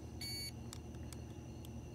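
A short, high electronic beep from a continuity test on a Samsung dryer motor sounds once near the start, clear but quiet against a low background hum, followed by a few faint clicks.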